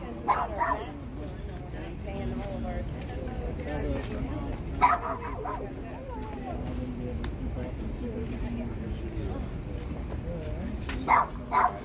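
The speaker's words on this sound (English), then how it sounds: "Isn't it interesting he's barking?" A dog barks in short, scattered bursts outdoors at an evening vigil outside a jail in Washington, DC, mostly buried under steady nearby conversation among several people.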